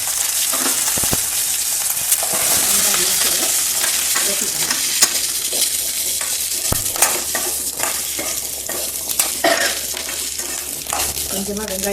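Continuous hissing sizzle as mustard seeds, dried red chili and onion fry in hot oil in a pan, with scattered pops and the clink of a stirring spoon against the pan.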